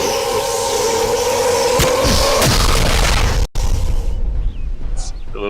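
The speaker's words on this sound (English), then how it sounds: "press A to perform a fate shift. This uses your remaining fate energy to destroy all unraveling foes" Fate shift attack destroying unraveling enemies in Kingdoms of Amalur: Reckoning, a loud sustained rumble with whooshing impacts and a deep boom, then an abrupt cut into quieter scattered effects and a short tonal flourish.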